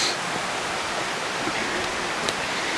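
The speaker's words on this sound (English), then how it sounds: "you're always hearing water because we're right by the creek." Creek water flowing steadily beside a muddy trail near Lebanon Reservoir, a constant broadband rushing wash, close and unbroken, with no talk over it.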